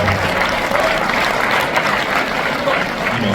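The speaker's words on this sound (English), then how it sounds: "Claps for that." Audience applause at a Cold Chillin' Records hip-hop showcase conversation, a dense, steady wash of clapping that holds at full strength for the whole stretch without easing off.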